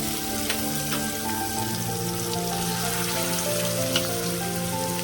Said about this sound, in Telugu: తాలింపులో వేసేసుకుందాం పచ్చడి అంతా కూడా.